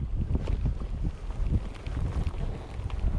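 Crosswind buffets the microphone of a cyclist on a country road ride between Shakhty and Matveev-Kurgan, a constant loud rumbling roar with gusty swells throughout.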